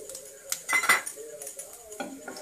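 A metal spoon clinks and scrapes against a pan while cumin, fenugreek and mustard seeds are stirred, in short close bursts with a faint voice in the background.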